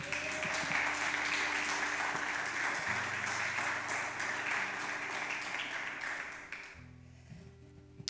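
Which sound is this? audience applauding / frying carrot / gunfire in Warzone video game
audience applauding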